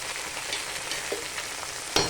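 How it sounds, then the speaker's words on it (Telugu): Fenugreek leaves frying in oil for a tomato and sesame chutney, a close, continuous bright sizzle with light stirring taps and a sharper scrape near the end, no voices. "ఇప్పుడు బాగా ఫ్రై చేసుకోవాలి మెంతి కూర బాగా ఫ్రై అవ్వాలండి"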